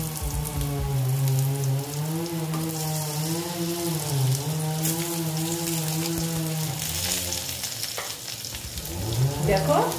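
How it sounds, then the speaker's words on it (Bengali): Potatoes sizzle and crackle steadily in hot spiced oil in a pan, with a stirring and frying noise lasting the whole time. Through it a faint, wavering tonal hum rises and falls. "আলু দিয়ে আবার ভেজে নিচ্ছি"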